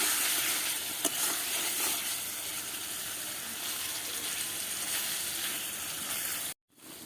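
Eggplant curry cooks in an oily pan with a soft, steady sizzle, broken by a few faint clicks of stirring and a brief silence near the end.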